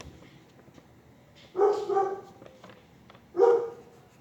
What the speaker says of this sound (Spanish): Este hijo de puta perro.